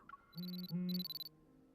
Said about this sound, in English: My hunter's watch suddenly sounds an alarm.